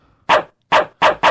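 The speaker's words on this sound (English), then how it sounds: "No, that's barking." A dog barks three times in quick, loud, close bursts, each sharp yelp separated by brief silence, played as an effect during a radio broadcast.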